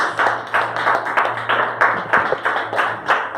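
A church congregation claps in a steady, even rhythm during a worship service, roughly three claps per second, over a low sustained musical hum.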